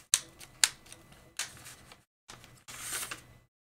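Scissors snip through paper for an art journal page, several sharp close cuts in short bursts with pauses between, ending in a longer rustling cut.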